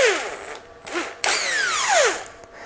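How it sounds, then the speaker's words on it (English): Electric impact driver loosening cylinder head bolts during a head gasket replacement, several close, loud bursts of whirring with rising and falling pitch sweeps, separated by brief pauses. "for that job I can use this my electric drill machine,"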